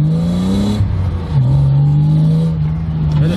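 BMW E36 engine revving hard during a clutch-kick drift, a loud sustained roar with a brief dip and re-rise in pitch as the clutch is kicked, then holding high revs with tire and mechanical noise.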